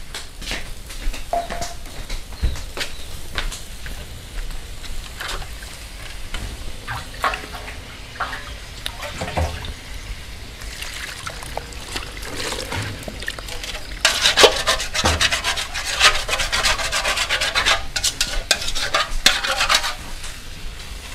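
Onions fry in a pan with a soft sizzle while a utensil repeatedly scrapes and stirs against the metal, the sizzling growing louder and busier toward the end.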